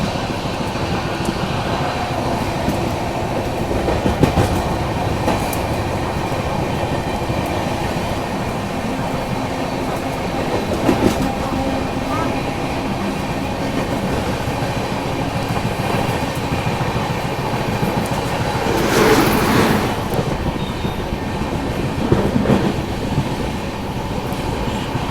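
Bhubaneswar Duronto Express running at speed as it overtakes another express train, heard from on board; a steady loud rumble of wheels and carriages with rhythmic clacks over rail joints and a brief whooshing swell near the end.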